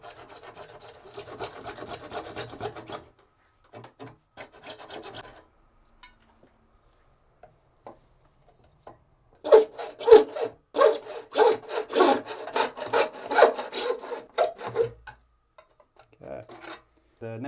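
Hand saw cutting through a pool pump's plastic pipe along marked lines, a few strokes at first, then a pause, then a loud, steady burst of rhythmic rasping strokes.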